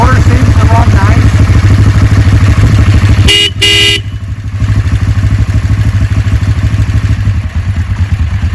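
A 1990 Kawasaki Vulcan EN500A motorcycle idling close by, a loud steady engine rumble throughout, briefly joined by a short double honk of its horn.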